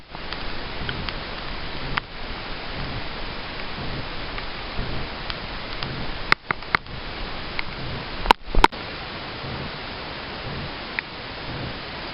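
Steady rain hisses evenly throughout, with a few sharp clicks and taps standing out near the end.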